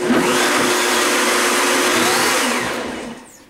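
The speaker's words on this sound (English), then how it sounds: "I'm going to push blend one more time." A kitchen blender whirs through a thick oatmeal protein bar mixture, a loud, steady, close-up motor roar that holds for about three seconds and then winds down as it is switched off.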